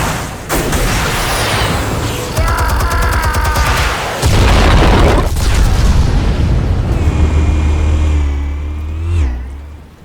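Explosives detonate in Batman: The Telltale Series, loud heavy booms and blasts rolling through a busy action scene with rumbling low end and a sharp swell near the end, no talk over it.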